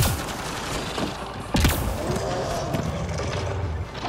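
Gunfire in the video game Mass Effect Andromeda, a pistol firing dense rapid shots alongside louder bursts and a sharp blast near the middle, loud and continuous throughout.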